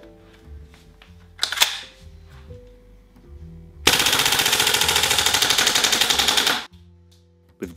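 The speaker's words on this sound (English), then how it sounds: "the mark of a good GBBR is whether it can burn through an entire magazine in one go on auto. Full auto mag dump" Full-auto magazine dump from a GHK SG553 gas blowback airsoft rifle: after some quieter handling noises and a brief clack, a loud, close, continuous burst of rapid, evenly spaced cracks runs for almost three seconds, then cuts off.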